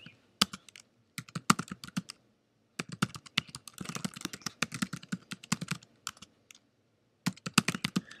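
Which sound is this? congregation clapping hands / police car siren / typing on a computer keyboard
typing on a computer keyboard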